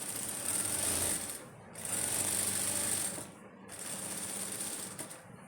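A sewing machine runs a seam for an invisible zip on a kurti, whirring in three quick close bursts of rapid stitching with brief pauses between them.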